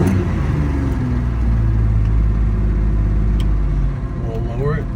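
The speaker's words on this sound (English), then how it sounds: "we're gonna start the car cold" A 1970 Jaguar E-type Series 2 coupe with a 4.2-liter engine idling after a cold start on choke, a loud, steady, low rumble heard from inside the car, with a voice speaking over it.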